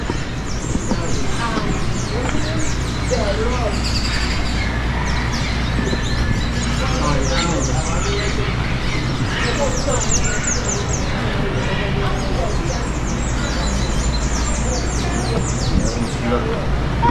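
Guinea fowl call outside at Queen's Park Savannah in Trinidad, with repeated harsh chattering cries rising over steady outdoor noise while people talk nearby.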